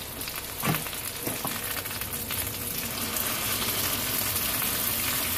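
Chapli kebabs fry in a pan over a medium flame, giving a continuous close sizzle with a couple of sharp crackles early on, the sizzle swelling slightly toward the end.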